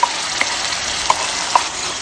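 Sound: frying onions and green chilli paste

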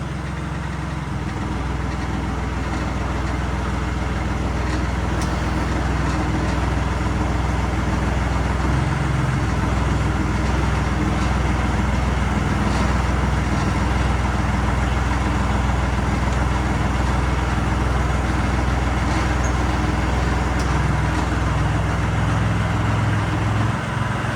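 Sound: Kubota L1-18 Japanese tractor engine running

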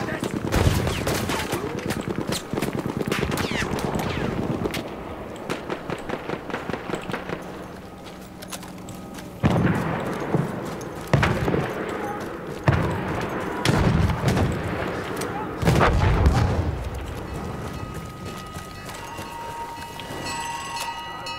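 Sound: enemy artillery barrage firing in the video game Battlefield 1

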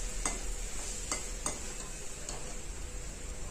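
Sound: stirring vegetable fried rice in a pan

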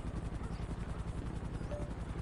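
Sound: helicopter flying overhead in the video game GTA

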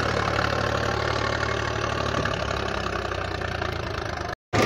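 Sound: Sonalika 745 tractor engine with cultivator

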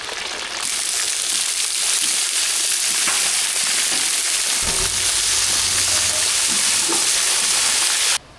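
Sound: plantain added to sizzling tempering in pan

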